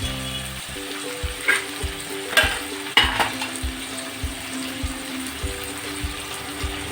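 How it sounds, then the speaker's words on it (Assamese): Potatoes and peas fry dry in a pan with a bright, steady sizzle, broken by repeated scraping and clacking stirs at an uneven rhythm. "মই আলু মটৰ শুকানকৈ ভাজিম।"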